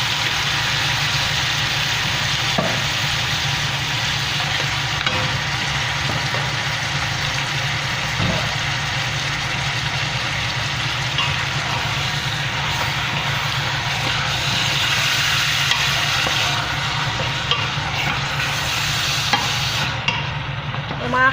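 Beef going into a pan with cooked onion and garlic for kare-kare, a loud continuous frying hiss and rumble with occasional faint stirring knocks, no talk.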